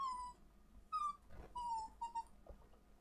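A dog whimpering and yipping indoors, several high, drawn-out whines in separate bursts, fairly close but soft, with no talk.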